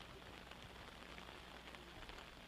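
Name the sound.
rain falling during a soccer game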